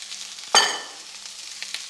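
White and red onion with chopped garlic hitting hot olive oil in a pan, giving one sudden loud sizzle that quickly settles into a faint, steady crackle.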